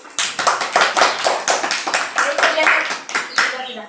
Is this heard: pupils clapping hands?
yes